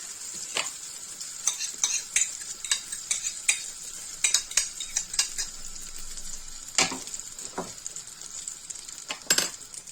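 Pancake batter sizzles steadily in a hot pan over low heat while a utensil scrapes and taps against the metal in scattered clinks, close and moderately quiet.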